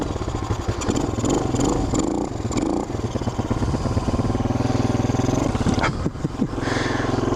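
A motorcycle engine roars loud and close with rough, clattering revving that rises and falls, briefly dipping before picking back up.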